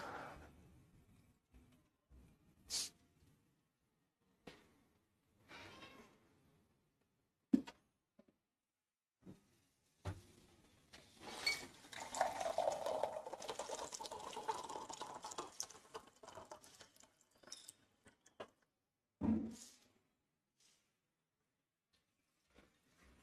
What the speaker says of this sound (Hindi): पानी पी लेता हूं तब तक।